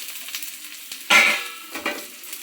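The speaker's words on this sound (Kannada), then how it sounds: "ಈಗ ಈರುಳ್ಳಿ ಹುರ್ಕೊಳ್ಳೋಣ. ಇವು ಚೆನ್ನಾಗಿ ಫ್ರೈ ಆಗಬೇಕು." Onions fry in a pan for a green chili chutney, with a steady sizzle and brighter hissing bursts each time they are stirred, close and with no talking.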